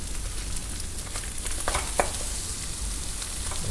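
Onions and carrots stir-frying in a wok over maximum heat, a dense steady sizzle with scattered sharp crackles and spatula scrapes, close and even throughout, no voices.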